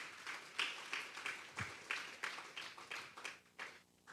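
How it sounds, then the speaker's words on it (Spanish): Church congregation applauding during a Sunday afternoon service, a quiet, uneven patter of claps rising and falling in soft bursts, fairly distant and unaccompanied by talk. "Vamos a darle un fuerte aplauso al Espíritu Santo esta tarde."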